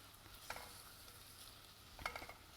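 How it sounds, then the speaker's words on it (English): Onion frying in ghee for butter chicken, a steady low sizzle with two brief louder bursts of stirring or spatter clatter, close and without talk. "the ghee and the onion that we're currently frying"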